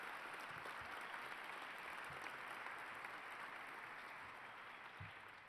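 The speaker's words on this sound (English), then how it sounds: "Let's give them a round of applause." Steady audience applause fills a broadcasting awards luncheon hall, a dense, even patter of many hands clapping at moderate distance, holding without a break and tapering slightly at the end.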